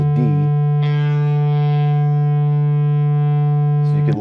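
A steady reference tuning tone on the note D, loud and sustained for several seconds with a rich, slightly distorted buzzing timbre, alone without talk.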